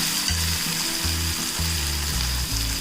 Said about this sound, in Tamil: வெங்காயம் சேர்த்துக்கிறேன், கொஞ்சம் நல்லா வதங்கட்டும்.